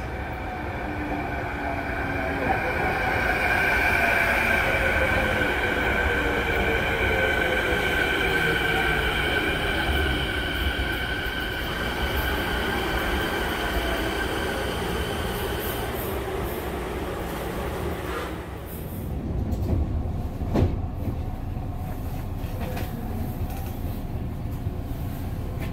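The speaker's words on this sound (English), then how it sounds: "The next train to arrive on the outbound platform is for Richmond Brighouse." A TransLink Canada Line train rolls into a station on the southbound run toward Richmond-Brighouse, with a steady rumble and rising electric motor whine that holds for about twenty seconds, then fades into platform noise and a few sharp clunks.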